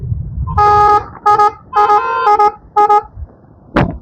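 Several loud vehicle horns blare in repeated short and long blasts, close by, followed by a sharp thud at the end.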